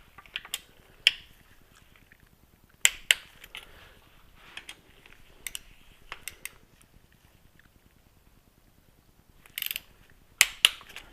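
A torque wrench clicks and ratchets while tightening bolts on a 2004 Yamaha R1 transmission during a rebuild, with sharp scattered clicks and snaps over a quiet workshop background and no talk.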